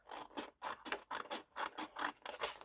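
Material for a Christmas decoration being cut with a rhythmic series of short, crisp snips and scrapes, about ten quick bursts, close and fairly quiet, with no talking.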